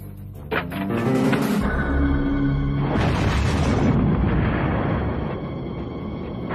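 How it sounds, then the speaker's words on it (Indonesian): A firecracker explosion used as a comedy film sound effect, a loud broad blast with a rumbling, crackling tail that fills several seconds after a brief lead-in. "Petasan!"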